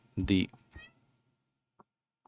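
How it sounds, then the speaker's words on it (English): A cat on a table gives a close, clear meow followed by a shorter second call, then a couple of faint clicks. "I have two cats on my table right now."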